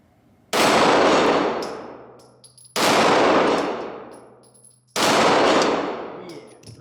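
Three loud, sharp pistol shots from a Glock 17 or Springfield XDM fired at steel plates, each crack ringing out with a metallic clang and a long fading tail, evenly spaced about two seconds apart.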